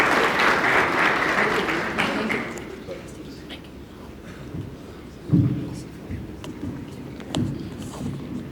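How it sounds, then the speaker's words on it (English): Applause welcoming an invited orthopedic surgeon to the stage at an Ethiopian orthopedics and traumatology society meeting, a dense clapping wash at the start that fades within a few seconds, followed by low room noise and bumps. "So let's give him a round of applause and welcome him to the stage."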